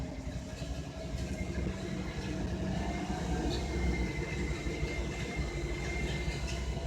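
A 1962 Chevy Impala two-door sports coupe engine idling after a cold start, a steady low rumble heard from inside the car, continuous and moderately loud with no talk.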